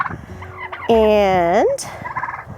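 A rooster crows loudly and close by, a long rising-and-falling call among other chickens in a backyard flock, with a single spoken word just before it.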